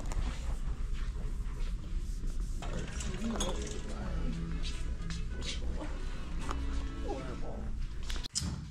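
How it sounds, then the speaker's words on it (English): A plastic fidget toy is twisted and turned close up, giving small clicks and ratcheting snaps over a steady background hum, with a voice speaking during the clip. "Twist, turn, fidget. I love a good fidget toy."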